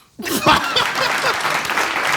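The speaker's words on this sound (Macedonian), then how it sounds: "Pero Антиш и Мини, аплауз!" A live audience at a comedy card show bursts into sustained applause, loud and dense, with some laughter and chuckling mixed in.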